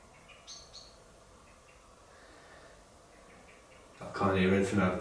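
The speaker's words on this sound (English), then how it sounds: "I can't hear anything over the birds." Faint birdsong, a few short high chirps and tweets scattered through quiet room tone inside a reportedly haunted building, before a person starts talking loudly near the end.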